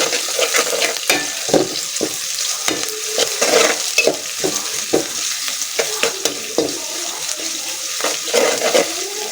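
Chopped onions fry in oil with salt while a spatula stirs them, producing a close, continuous sizzle punctuated by repeated scraping strokes against the pan, with no talking.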